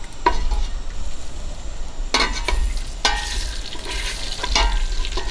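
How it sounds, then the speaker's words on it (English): Two links of andouille sausage frying in leftover bacon grease give off a constant close hiss and crackle, with a low hum beneath and a few louder scraping bursts partway through. "we're going to add our 2 links of andouille sausage"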